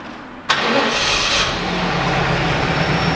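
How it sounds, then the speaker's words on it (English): A Pontiac Firebird Trans Am engine cranks and catches with a sudden loud burst, then settles into a steady rumbling idle, close by and alone, while its ignition and catalytic converter are being diagnosed. "So I'm gonna start up and just see if it feels like we have any, how much air is actually coming out of these exhaust pipes."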